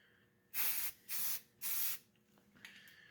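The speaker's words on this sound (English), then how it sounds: "This is with a quick coat of primer" A spray can lays a quick coat of primer on a car frame, three short hissing bursts in quick succession, fairly close and alone, with quiet room tone between them.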